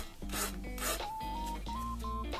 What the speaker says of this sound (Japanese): まあ地味にこうやって ヤスるだけですよ